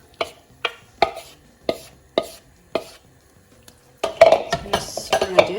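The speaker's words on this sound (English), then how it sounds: "in goes our egg mix" Egg mix for a chickpea, pepper and potato frittata goes into an oiled frying pan. A few evenly spaced clinks come first, then a busy rush of splashing and sizzling builds up close and fairly loud.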